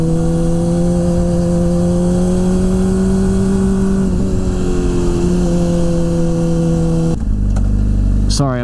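Honda CBR600RR motorcycle engine riding through twisty roads, a steady mid-pitched drone with shifting revs that holds loud and close throughout, then changes sharply near the end.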